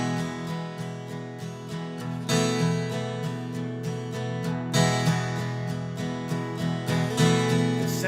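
Strummed guitar chords in a steady rhythm, with sharper, louder strokes landing off the main beat, played close and alone.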